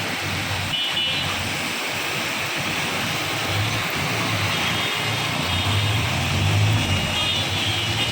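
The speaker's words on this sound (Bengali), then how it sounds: "দেখুন গাড়িগুলো আস্তে আস্তে যাচ্ছে" Cars creep slowly along a road in Keraniganj, Dhaka, during a heavy downpour, a low vehicle rumble rising and falling beneath a constant wash of rain hiss.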